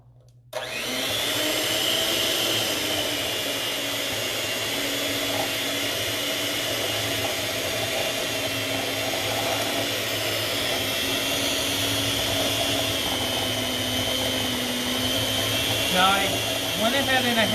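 Cream cheese, butter and heavy cream being mixed with an electric mixer, a loud steady whirring motor hum that runs the whole time under occasional speech.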